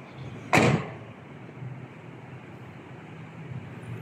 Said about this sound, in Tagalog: Inuksan ko lang yung pinto.